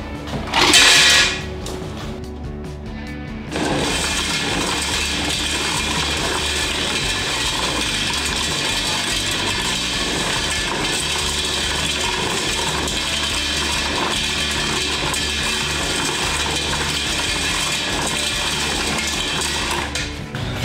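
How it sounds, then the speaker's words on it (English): A homemade rotary tumbler polisher turns items over with bolts inside, producing a loud, steady clattering rattle that runs continuously after a brief startup knock. "They're actually tumbling quite well thanks to the bolts down the bottom."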